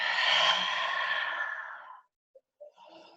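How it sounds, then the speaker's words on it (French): A person exhales deeply through the mouth during a yoga flow class, a long breathy sigh fading out over about two seconds, then brief quiet and faint rustling. "Grosse expire par la bouche."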